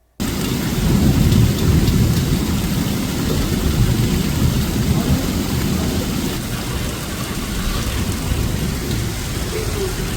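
Heavy rain pours steadily with strong winds and rumbling thunder, a dense continuous roar with low booming swells, loud and close throughout.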